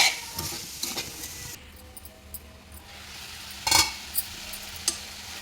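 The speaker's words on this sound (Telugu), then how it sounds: "ఒక పది నిమిషాల పాటు కూరని మగ్గనివ్వాలి" A soft, steady sizzle of cabbage curry cooking in a pan, with occasional stirring scrapes and a few sharp clinks.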